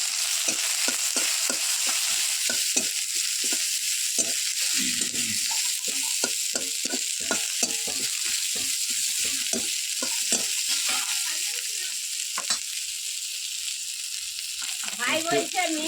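Onion frying in hot oil in a home kitchen pan, stirred steadily throughout: a continuous loud sizzle with many rapid scraping strokes of the spoon, close up, and no talking.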